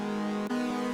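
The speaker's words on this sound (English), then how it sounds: "is the chord progression." A sustained synth chord from a hard trap-style beat built in FL Studio, held steadily for a second with a brief shift in the middle, playing alone.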